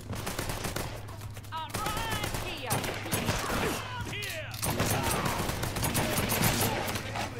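Gunfire in the video game Mafia III, dense bursts of shots and rapid automatic fire layered over constant background noise, with voices shouting during the firefight.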